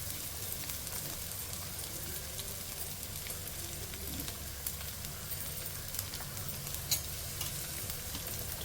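Beans, green chillies and carrots frying in hot oil for a homemade fast-food dish, giving a steady, dense sizzle with faint stirring scrapes throughout, no voices.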